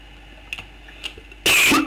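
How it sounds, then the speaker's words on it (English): A single person's cough bursts out loudly near the end, preceded by a couple of faint throat sounds over quiet background. "I got a cough there."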